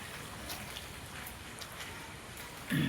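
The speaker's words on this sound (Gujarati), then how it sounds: "આજ રાતે પણ વરસાદ હતો અને અત્યારે પણ ચાલુ છે." Steady rain falls outdoors beside a garden and orchard, a soft continuous patter with a brief louder thump near the end.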